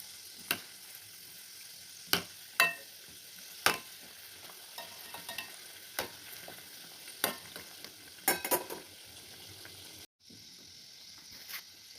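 Litti dumplings frying in oil in a pan, a faint steady sizzle broken by scattered clicks and scrapes as they are stirred and turned, close and quiet throughout.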